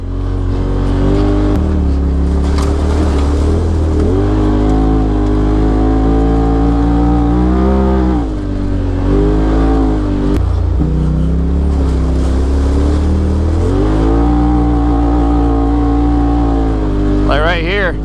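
A Polaris RZR XP Turbo driving with wheel spin on a forest track, its engine droning loudly and close, rising and falling as it revs, with someone talking over it throughout.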